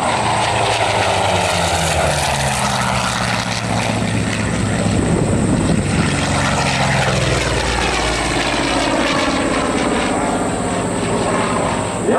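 Vought F4U Corsair fighter with its R2800 radial engine flying at an airshow, a loud, steady propeller drone that sweeps in pitch as the plane passes, continuous for the whole stretch with no talk.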